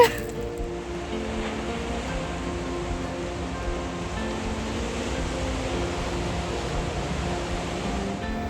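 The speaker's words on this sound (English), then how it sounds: "It's making me feel happy to hear the ocean again." Ocean waves washing onto the shore at Damnation Creek in the Redwoods, a steady, loud broadband roar of surf that carries unbroken throughout.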